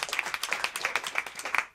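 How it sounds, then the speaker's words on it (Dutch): Audience applause at a live Frisian broadcast in a café setting, a brisk run of individual claps close by, rising and falling in quick bursts before cutting off. "Ja, applaus."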